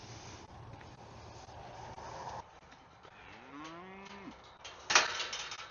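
A single cow moos from a short distance, a long low call rising and falling, over wind noise and a soft rustle nearby.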